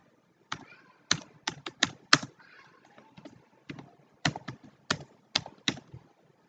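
Keys on a computer keyboard tapped in short irregular bursts while entering text into a Flask web page, close and clear with quiet gaps between strokes and no talking.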